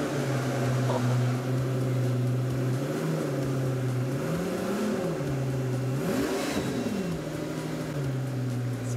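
An Italian superlightweight sports car engine idles steadily close by, then blips its throttle twice, with the revs rising and falling in smooth swells before it settles back to a rumbling idle.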